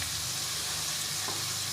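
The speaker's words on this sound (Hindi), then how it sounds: "इसे दोबारा से फिर हमें फ्राई करना है मसालों के साथ" Diced potatoes with cumin, salt, crushed red chilli and turmeric sizzle steadily in a hot pan, a dense continuous frying hiss heard up close with no voices over it.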